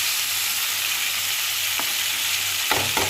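Vegetables fry in a pan for a rohu fish dish with a constant, dense sizzle, and a few short scraping knocks of a utensil stirring near the end.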